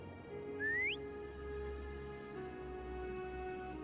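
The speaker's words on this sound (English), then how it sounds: "Try whistling. Like this." A character in the video game Wuthering Waves gives a single short rising whistle to call a creature, clear over a soft ambient music bed.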